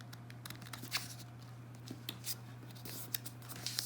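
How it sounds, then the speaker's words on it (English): Sheets of paper are folded and creased tight by hand for a paper snowflake, giving soft crisp rustles and short scraping swipes, close and fairly quiet over a steady low hum. "And then you're just going to fold up to the mark."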